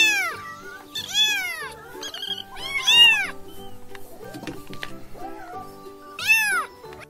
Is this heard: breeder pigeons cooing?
no